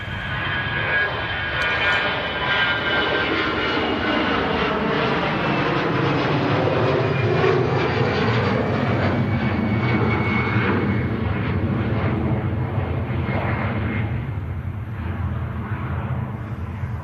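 An EasyJet airliner rolls for departure at Manchester Airport, its engines a loud, sustained roar that swells and holds steady throughout, with a thin high whine over broad low rumble and no voices.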